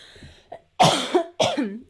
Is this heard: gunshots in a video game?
no